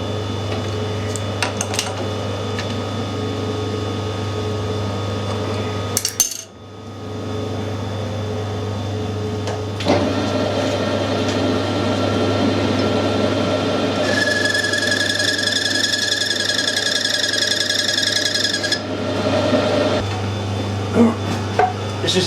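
A metal lathe cuts screw threads for the end of a handle, giving a steady machine whir and hum with a brief dip partway through and a brighter high whine joining midway, with no voices.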